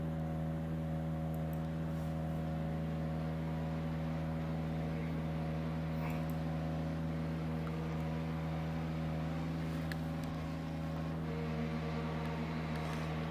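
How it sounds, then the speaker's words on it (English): A race car engine in an online VR racing sim drones steadily and evenly at a constant pitch throughout, with no voices. "Hearing the car but not seeing it."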